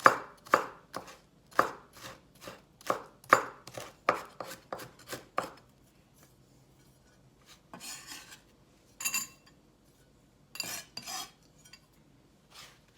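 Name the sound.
chopping garlic for okoy sauce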